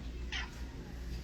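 A cat at an animal shelter gives a single short meow at mid distance, surrounded by a steady low room hum.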